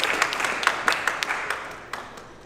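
An audience at a rap battle claps in scattered bursts, with a few sharp claps standing out over a soft, fading crowd noise.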